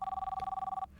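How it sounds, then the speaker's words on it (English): A telephone bell rings as a sound effect in a narrated story, a fast steady trill of about a dozen pulses that cuts off abruptly, leaving quiet room tone. "the sound of a telephone ringing from somewhere below"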